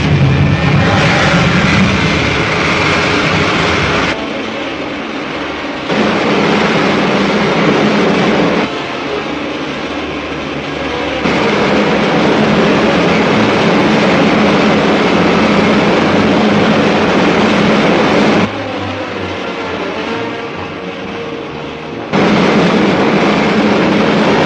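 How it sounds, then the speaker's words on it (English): Rocket main jets fire as a film sound effect, a loud, harsh roaring blast that cuts in and out in long bursts with short pauses between them. "Fire main jets. Fire main jet."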